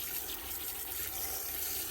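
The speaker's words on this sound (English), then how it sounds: "Let's get this water rolling here." Steady, close rush of water running from a tap as a homemade natural pesticide spray is mixed, a continuous hiss without pause.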